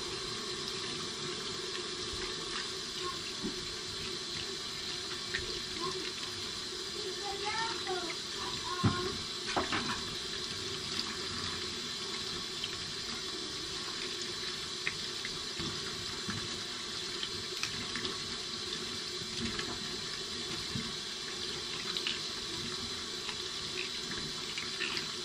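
Tap water runs steadily into a sink as Haitian spices are rinsed and washed, a continuous moderate splashing flow with faint handling sounds and no talk over it.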